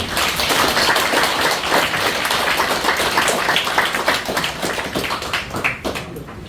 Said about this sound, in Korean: 우리 다 함께 격려와 위로의 박수를 한번